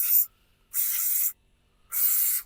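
Three short bursts of an aerosol can spraying cleaner onto a brush cutter, each a bright hiss lasting about half a second, with near-silent gaps between, close and loud.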